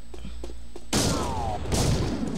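Gunfire from the Jak 2 video game breaks out suddenly after quiet ticking, a dense loud burst of shots, followed by a second surge a moment later.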